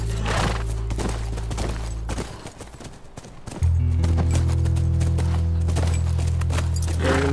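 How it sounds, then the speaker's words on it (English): Horse hooves clip-clopping in The Last of Us, a steady walking rhythm over a low droning game background that swells louder partway through, with a brief quieter stretch in the middle. "That's our horse."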